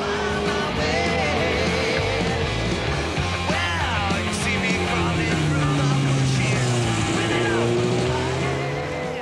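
Racing motorcycles at the 2001 Spa-Francorchamps 24 Hours endurance race roar continuously at high revs, their engine pitch sliding up and down as bikes sweep past, loud and close throughout.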